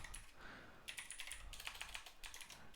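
Keystrokes clatter on a computer keyboard in irregular bursts of quick, fairly close taps, with no voices over them.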